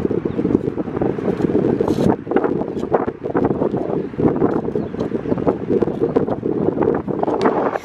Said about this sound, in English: So it is a bit windy